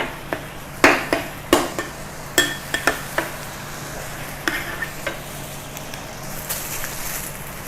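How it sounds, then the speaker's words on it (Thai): Shallots are stir-fried in a pan for a Thai shrimp-paste fried rice, with a soft steady sizzle under repeated scraping and clacking of a utensil against the pan in quick irregular bursts, close up and without talking. "ใส่หอมแดงเสร็จ ผัดให้สุกก่อนนะคะ"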